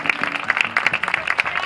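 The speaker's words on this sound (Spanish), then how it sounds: "Un aplauso para las primeras clasificadas." An audience at a race trophy ceremony applauds the top women finishers, a steady dense patter of clapping that holds for a couple of seconds at moderate distance.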